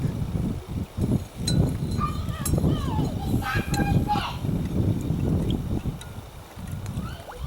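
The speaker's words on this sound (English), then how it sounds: "It's windy out here" Outdoor wind buffets the microphone in a steady low rumble that lasts throughout, with faint scattered background sounds mixed in.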